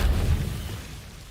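Confringo fire spell explosion in Hogwarts Legacy, a single deep booming blast that rumbles low and fades away over about a second.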